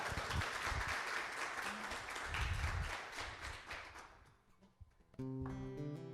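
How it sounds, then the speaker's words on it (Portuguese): A church congregation applauds in a dense, steady wash of clapping that swells and then thins out, before sustained keyboard or organ tones enter near the end. "Você pode aplaudir Jesus por isso?"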